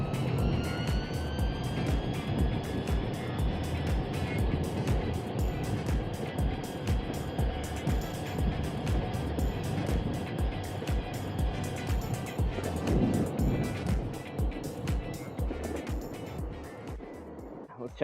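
A Backfire Zealot X electric skateboard on Orangatang Caguama 85mm wheels makes a top speed run, with a steady high motor whine and rushing wind and road roar, gently fluctuating, and no talk over it.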